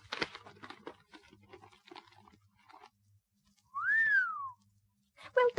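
A single clear rising-then-falling whistle sounds between soft crunching and rustling, followed by a couple of short whistled notes.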